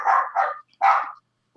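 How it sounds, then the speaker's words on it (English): A doorbell plays a recorded barking dog: three short, sharp barks, the first a quick double, spaced apart and moderately loud against silence. "You got a barking dog as a doorbell?"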